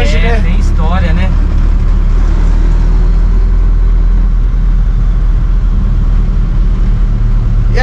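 A Ford F-100 Twin Beam pickup truck on a test drive, its engine and road noise a loud, steady rumble heard from inside the cab while people talk briefly at the start.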